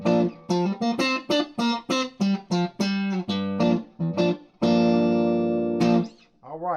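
Dry electric guitar played through a Vox AC15 amp with no reverb: a quick run of bright plucked notes and chords, then a long ringing chord and a short bent note at the end, loud and close.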